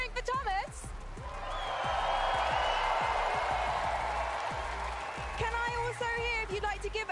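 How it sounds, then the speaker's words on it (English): A large esports arena crowd at a Fortnite championship finale reacts with a swelling murmur and scattered boos, loud and broad in the middle, while a nearby host talks over it. "I can hear a few boos."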